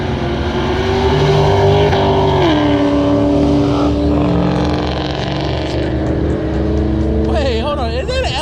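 Nitrous-fed GSR Honda CRX engine racing, loud and close, its note holding steady and then dropping and climbing again, with people talking excitedly over it.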